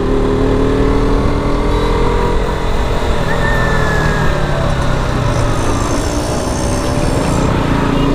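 A KTM RC 125, a 125cc sport motorcycle, being ridden on a short spin. Its engine drones steadily and close throughout, with a brief rise in pitch partway through and continuous wind and road noise.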